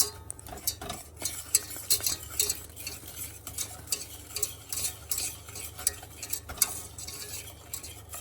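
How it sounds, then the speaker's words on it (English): Cocoa powder and granulated sugar are whisked in a pot on the stove, producing a rhythmic series of close metallic scrapes and taps against the pot, with a faint background hum. "add in 1/3 cup of cocoa powder with 1 cup of granulated sugar onto your stove and whisk to combine"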